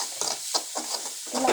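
A spoon stirs a spiced curry in a pan with ground coriander, making four or five short scraping, rubbing strokes close up under a soft sizzle.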